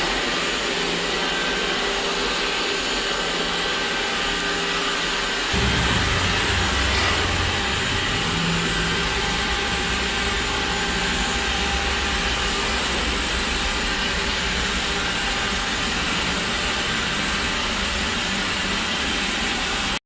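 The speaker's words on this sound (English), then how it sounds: "The Dreametech D9 robotic vacuum and mop is one of the most powerful robot vacuums on the market" Loud, steady whirring roar of a Dreametech D9 robot vacuum and mop, shifting to a deeper, stronger suction hum after a few seconds and running continuously.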